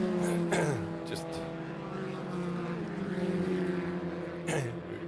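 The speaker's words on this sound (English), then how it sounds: "watch that car come into the pits" Classic race car at the SKOPE Classic 2022 meeting, engine note steady and moderately loud with pitch sweeping down as it slows toward the pits, a passing burst near the start and end, commentary voice talking over it.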